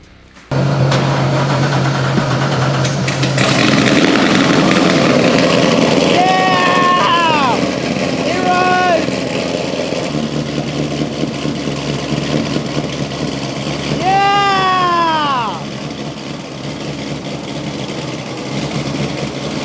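A Corvette drift car's engine starts and settles into a loud, steady idle with a deep rumbling drone. Voices talk over it at a few points.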